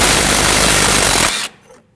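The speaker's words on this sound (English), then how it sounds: "Using a 14mm socket, remove that bolt." A 14mm socket on a power tool loosening the front brake hose mounting bolt on a 2014-2019 Toyota Corolla, a loud, rapid, close rattling burst lasting about a second and a half before cutting off sharply into quiet.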